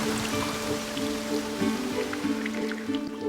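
Steady rain patters on leaves in a natural setting, a dense, even hiss of drops with scattered closer drips, continuous and fairly loud throughout with no voices.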